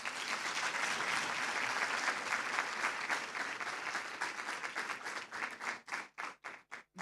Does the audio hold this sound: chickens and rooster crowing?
no